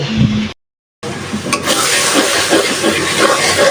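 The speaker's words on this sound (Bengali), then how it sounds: "চেপা তারপর সব কিছু মশলা তো বেটে দিছি খুব সুন্দর একটা ফ্লেভার বের হয়েছে আর একটু কষানো হোক" Ground spice paste with chepa dried fish is sautéed in a pan for a jackfruit curry, producing a loud, continuous sizzle and frying hiss after a short break near the start.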